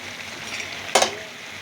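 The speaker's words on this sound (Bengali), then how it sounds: "আমার এটা মশলাটা অনেকটা ভাজা ভাজা হয়ে গেছে" Spice masala for doi piyaj fries in a pan, a quiet bed of sizzling that jumps into a sudden loud hiss as liquid hits the hot spices, then settles back to a fading sizzle.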